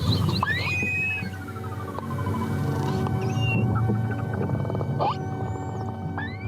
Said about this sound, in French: Ce sont des dauphins globicéphales